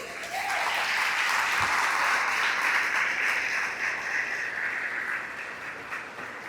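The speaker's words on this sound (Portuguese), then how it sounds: "dá um aplauso ao Senhor Jesus" A church congregation breaks into sustained, loud applause that holds steady for several seconds before slowly thinning toward the end.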